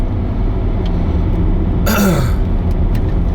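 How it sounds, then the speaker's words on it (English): A single loud throat-clearing cough bursts out over the steady hum of a moving Range Rover L322. "This flipping cough, it will not go."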